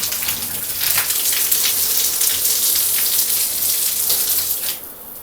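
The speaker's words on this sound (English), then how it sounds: "That's a pretty good shower head" A hotel shower head sprays steady running water into a tiled tub, a broad continuous hiss close to the listener that tapers off in the final moment.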